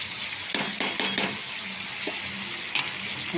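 A spoon stirs banana-flower ghonto with prawns, sugar and ghee in a sizzling pan, sharp metallic scrapes and clinks against the pan over a steady frying hiss, close up.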